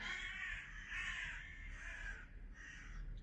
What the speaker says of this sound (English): The crows are fighting probably.